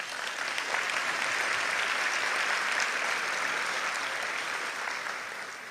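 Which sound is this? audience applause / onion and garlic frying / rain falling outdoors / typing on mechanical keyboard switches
audience applause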